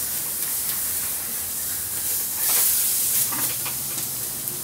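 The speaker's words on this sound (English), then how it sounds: "Get that nice sizzle." Continuous sizzling and hissing of chicken skin searing skin-side down on a hot barbecue grill, with a brief louder crackling swell midway.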